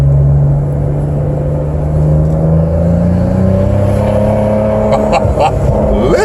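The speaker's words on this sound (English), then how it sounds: "Here we are on downshift." Heard through an open window, a 2015 Maserati Ghibli SQ4 engine growls on a downshift, its pitch sliding as the revs change, loud and close with a few crackles near the end.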